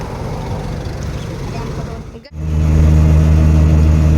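A CNG auto rickshaw engine runs with a low rumble, cuts out briefly, then fires up into a loud, steady, throbbing drone close by.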